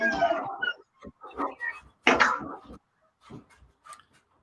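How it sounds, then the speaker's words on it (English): A puppy left alone in a bedroom howls and whimpers in short, uneven bursts, fairly close and clear in an otherwise quiet room, trailing off into softer whines. "he's howling like somebody's killing him, but he's just in the bedroom by himself."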